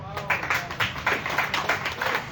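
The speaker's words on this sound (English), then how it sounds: "Give yourself a round of applause." A crowd at a Monrovia media address by the LBS Director General applauds together, a steady dense patter of many hands clapping at moderate loudness, with low murmur underneath and no clear words.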